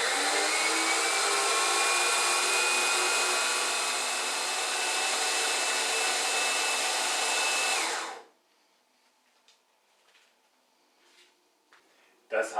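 A Saeco Magic Digital coffee maker with a beans-empty fault runs its grinder loud and close in a steady whirring drone for about eight seconds, then cuts off abruptly, leaving faint clicks and a quiet room.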